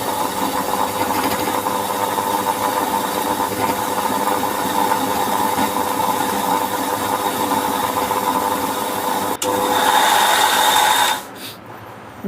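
An electric grinder whirs steadily while grinding shawarma spice powder, a loud constant motor drone with a faint hum that runs for about eleven seconds, then cuts off and winds down.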